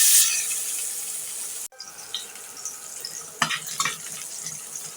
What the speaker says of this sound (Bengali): আর এখানে মাছ ভাজার তেলে দিয়ে দিচ্ছি পেঁয়াজ